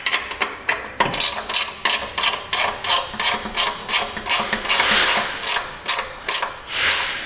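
Gear wrench ratcheting on a rusty exhaust pipe nut during flex pipe and Y-pipe work on a Dodge Journey, a steady run of close, loud clicking bursts with brief pauses between strokes, no talking.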